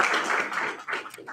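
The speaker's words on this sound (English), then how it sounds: "So I think you all deserve a good round of applause" Applause from the audience at a university apprenticeship program completion ceremony, a dense, steady patter of many hands clapping together that keeps going throughout with small swells.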